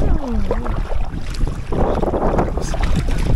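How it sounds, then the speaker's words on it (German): Wind gusting against a canoe on a lake in the Saimaa region, a constant loud rushing buffet on the microphone with light water sounds underneath. "Wind von schräg hinten ist immer am schwierigsten"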